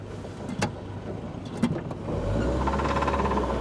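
An old reconditioned engine in a 1970s Land Rover idles with a low, steady hum and faint ticking clatter, a few sharp clicks early on before the running settles into a rattly, knocking drone.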